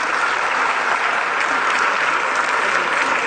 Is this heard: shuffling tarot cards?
no